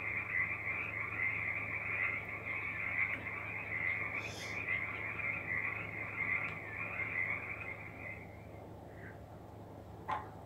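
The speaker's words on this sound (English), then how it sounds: "The frogs are cheering for me." Frogs croak in Ultimate Fishing Simulator as a continuous, rapid chorus of trilling calls over a low ambient hum. The chorus fades slightly near the end, and a couple of brief higher sounds break in.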